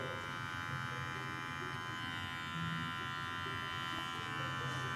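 An electric hair clipper cutting a fade on tightly coiled hair, its steady close buzz humming without a break.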